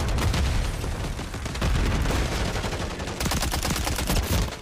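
Dense rapid gunfire in Modern Warfare 3 multiplayer, continuous automatic bursts and booming shots overlapping, loud and close for the whole stretch.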